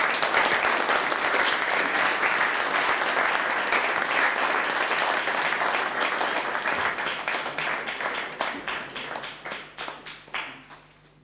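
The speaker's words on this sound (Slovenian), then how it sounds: "Mislim, da si zaslužijo velik aplavz." A crowd at a bocce club's 50th anniversary celebration applauds award recipients with sustained clapping that slowly thins out into scattered individual claps before it stops.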